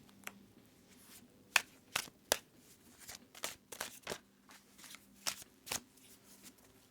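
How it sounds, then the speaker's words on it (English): A tarot deck being shuffled, cards riffling and slapping in a series of crisp, sharp bursts with short pauses between, close and fairly quiet, no talking. "I'm going to go ahead and give the deck a good shuffle"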